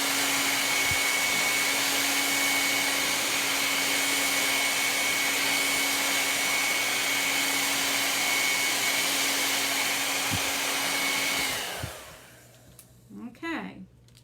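A hair dryer blows with a steady, loud whooshing roar for about twelve seconds, then cuts off, leaving faint rustling and brief sounds.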